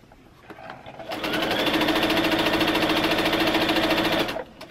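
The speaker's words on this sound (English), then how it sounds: "I'm going to start sewing" A sewing machine stitches a quilting strip set in one steady, rapid whirring run of about three seconds, close and clear, then stops.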